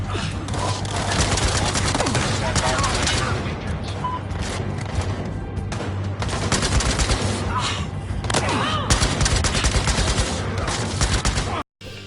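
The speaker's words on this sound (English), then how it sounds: "from guns being fired and reloading to the sounds of explosions being set off" Heavy gunfire and explosions from the video game Battlefield: Hardline sound as loud, dense bursts of shots and booms. They run almost without a break and cut out abruptly just before the end.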